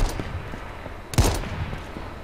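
Gunfire in the survival battle royale game H1Z1: a few scattered shots crack out, with one sharper, nearer report standing out midway over a low ambient background.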